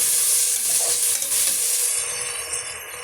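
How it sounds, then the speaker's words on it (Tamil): Tomatoes sauté in a hot pan while being stirred, giving a continuous loud close sizzle and hiss with soft scraping, and no one speaking. "தக்காளி பழம் வந்து ஆட் பண்ணிக்கலாம் இந்த தக்காளி பழமும் ஓரளவுக்கு நல்லா மசிஞ்சு வரணுங்க அது வரைக்கும் நம்ம வதக்கி விட்டுக்கலாம்"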